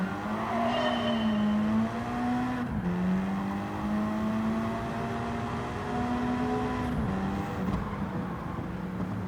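Race car engine from the Gran Turismo 7 racing game, a steady loud drone holding pitch with brief shifts and dips, continuous throughout with no voices.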